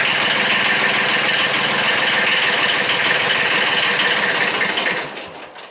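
The diesel engine of a 1991 Kubota B7100 compact tractor runs steadily nearby with a loud, even rumble, then quickly dies away as it is shut off.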